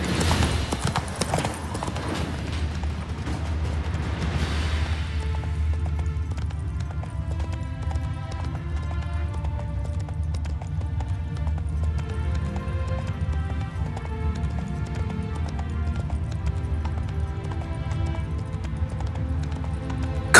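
A horse gallops in the video game The Witcher 3, its hooves drumming in a steady, rapid clip-clop rhythm throughout, loud and close, with a brief noisy burst at the start.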